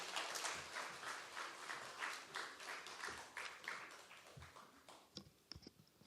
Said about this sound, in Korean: 나올 때 우리 한번 박수로 우리 한번 환영할까요?